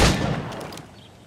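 A single gunshot at training targets in Assassin's Creed Rogue, a sharp near blast at the start that decays into a booming echo, with a faint click toward the end.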